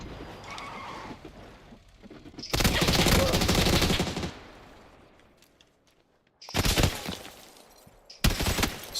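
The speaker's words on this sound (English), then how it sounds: "Strafing and shooting, bro." Bursts of automatic gunfire while strafing in the video game PUBG on Xbox, two long loud volleys separated by a quiet gap, then a short final burst.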